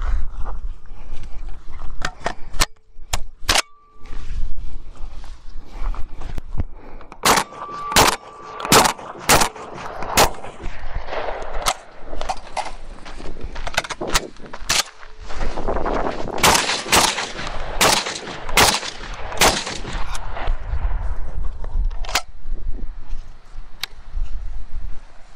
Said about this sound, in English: This is a Charles Daly N4S G2 semi-automatic 12 gauge bullpup shotgun. So we're gonna give it a quick test run here